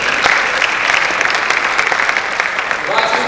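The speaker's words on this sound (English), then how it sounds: "give a round of applause to yourselves" Large crowd applauding at a malaria health colloquium, dense and loud continuous clapping from a packed hall of over a thousand people, sustained evenly throughout.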